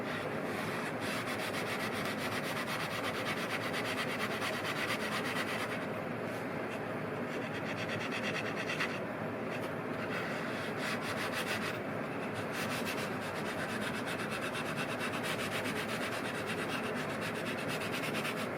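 A sanding block or sandpaper rubs paint off a pair of glasses frames, producing a continuous, faint scratchy abrasion with steady back-and-forth strokes close up and no voices.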